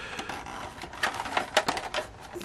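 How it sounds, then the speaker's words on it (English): Someone works a plastic canopy loose from the track of a 1989 McFarlane toy Batmobile, producing a quick run of small plastic clicks, scrapes and rattles close up. "just lift up enough to be able to slide the canopy outside of here"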